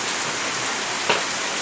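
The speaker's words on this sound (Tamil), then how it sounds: "மோடு தூக்கி இவ்வளோ மழை பெய்யுது எப்படின்னே தெரில" Heavy rain falls steadily on surfaces outside a house, a dense, loud, continuous hiss with one brief sharper splash partway through.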